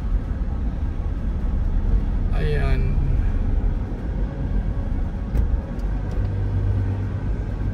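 Tricycles and motorcycles pass along a partly flooded main road in Bula, Camarines Sur, with a steady nearby engine rumble and one brief rising whine, while someone talks over the traffic.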